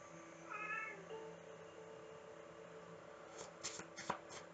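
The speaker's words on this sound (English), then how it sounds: "Why is there's so much tension between my boy cats this morning?" Two male cats meow tensely at each other, a short faint wavering cry near the start, followed later by soft shuffling and rustling noises in a quiet room.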